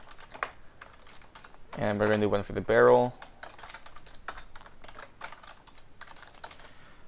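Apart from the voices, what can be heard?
typing on a computer keyboard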